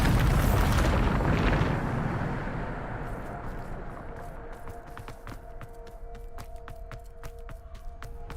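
A Bombarda spell blast in Hogwarts Legacy erupts as one loud, broad boom right at the start, then decays into a fading rumble with light clicking and tonal game effects trailing behind.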